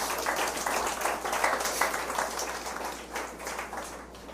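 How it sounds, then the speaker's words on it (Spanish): A church congregation applauds the Lord after a sermon, giving a steady, moderately faint wash of many hands clapping that fades slightly toward the end. "Denle un aplauso al Señor."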